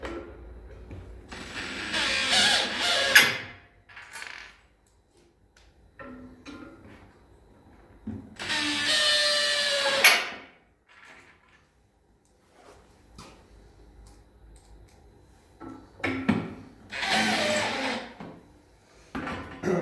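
A power drill drives screws into a round tabletop mounted on a restaurant table base, heard as three loud whirring bursts of a few seconds each, separated by quieter handling noises and pauses.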